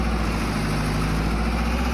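Steady tractor engine idling and droning in a farming video game, a low, even rumble with a constant hum and no breaks, close and fairly loud throughout.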